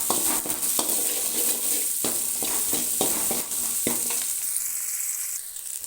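Onions fry in a pan for a mutton curry, giving a steady sizzle broken by repeated scraping and clicking strokes of a spoon stirring them, which settle into quieter frying near the end.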